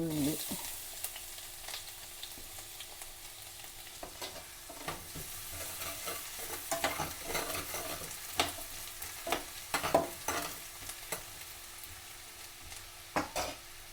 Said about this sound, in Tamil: அதுக்கு பிறகு இஞ்சியை போடுவோம். இஞ்சி கொஞ்சம் எண்ணெய்களை பொரியாட்டு.